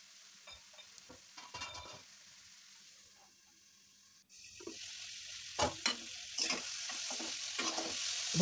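Sponge gourd fries and is stirred in a wok, with bursts of sizzling and scraping that come and go, a quiet stretch in the middle, then louder stirring and hissing toward the end.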